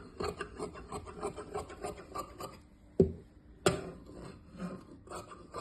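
Scissors cut through blouse lining fabric in a run of close, quiet rasping snips, broken by a short pause and a couple of sharper clicks from the blades, with no talking.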